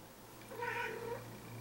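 A cat gives a single drawn-out meow, rising and falling over about half a second, close by and fairly clear over a low steady hum in an indoor room.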